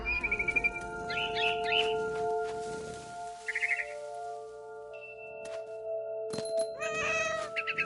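A cat meows in the video game What Remains of Edith Finch, with several short, close meows near the start, another in the middle and a last cluster at the end, set over a steady, droning game ambience.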